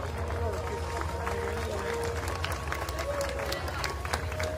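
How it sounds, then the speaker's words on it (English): Applause for relay medalists at a championship, a steady, moderately distant spread of clapping from the crowd, with an announcer's voice heard over it. "Once again, big applause to them."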